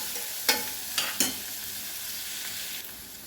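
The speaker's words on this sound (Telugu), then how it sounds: "చూడండి, 4 వెల్లిపాయలు, ఇవి మంచిగా కొంచెం వేగాలి." Four crushed garlic cloves frying in a pan of hot oil for a chickpea masala curry, giving a steady close sizzle broken by a few sharp scrapes of a stirring spoon, with no voices.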